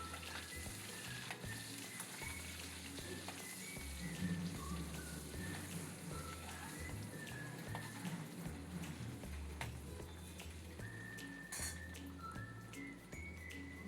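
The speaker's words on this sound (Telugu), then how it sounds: "మనం ఉడకపెట్టుకున్న గుడ్లని ఫ్రై చేసుకోవాలి" Boiled eggs fry in oil with turmeric in a pan, making a continuous close sizzle like rain on a surface, with scattered small pops and spatters and no voices.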